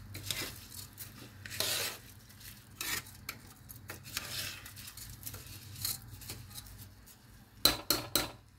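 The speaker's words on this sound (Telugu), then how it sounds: "మొత్తం వేసేసి ఆ తాలింపులోనే ఈ రైసు, ఈ పప్పు మొత్తం కడిగినవి వేసేసి ఇలా కలుపుకోవాలి." Washed rice and dal are stirred into a tempering in a pot for katte pongali, with scattered scraping and clinking of a spoon against the metal pot over a faint steady background hum.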